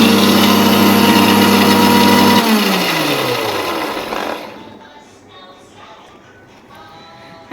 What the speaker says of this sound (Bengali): এখন আমি ডিম আর তেলটা একটু ব্লেন্ডার করব।